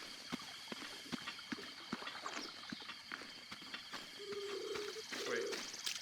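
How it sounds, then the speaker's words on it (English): Bird sounds in a Zelda video game: faint scattered chirps and coos over soft rhythmic clip-clop footsteps and quiet ambient game tones, with no talking. "There's a bird. There's a bird."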